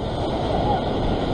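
Waves wash against a rocky shore during rock fishing near Sydney, a loud continuous broadband roar of surf with wind buffeting close to the microphone.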